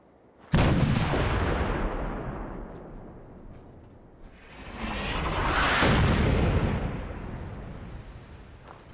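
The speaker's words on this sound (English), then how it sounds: "Wow, they're bombarding it. More than one. It does seem a bit close for artillery, but okay." Artillery bombardment in Fallout 4: a sudden heavy blast followed by a long rolling decay, then a second swelling roar of impact that rumbles for several seconds, with the start of another burst at the end.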